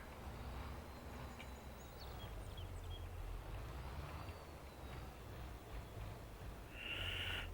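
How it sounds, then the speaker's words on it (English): Old Farmall turbo tractor engine in Farming Simulator 22, a low steady rumbling drone throughout with a faint whine of turbo above it, rising slightly in loudness toward the end. "Love the sound of that old turbo, Farmall turbo boy."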